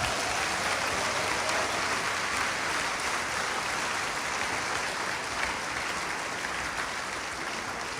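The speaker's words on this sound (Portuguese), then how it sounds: "Dá uma salva de palmas para o Senhor" A church congregation applauds during a sermon, a dense, continuous wash of clapping from many hands that holds steady throughout.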